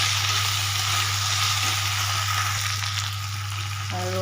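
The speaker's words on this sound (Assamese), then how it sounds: "তাত অলপ বিলাহী চচ দি দিছোঁ।" Tomato sauce sizzling in a frying pan while pasta is being made, a steady close frying hiss with a constant low hum beneath and no voices.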